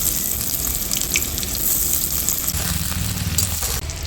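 Chopped medium onion dropped into hot oil for a chicken dish, giving a loud, dense, continuous sizzling hiss close up throughout.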